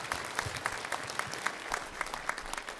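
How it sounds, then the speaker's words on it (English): An audience at a public meeting gives a brief round of applause, faint, steady and scattered, with individual claps standing out. "Let's give her an applause for this."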